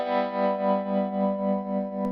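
A guitar tone run through an Empress Tremolo 2 pedal set to tap tremolo at a 1-to-2 ratio, giving a steady, even volume pulse of about four swells per second over a sustained chord, loud and alone.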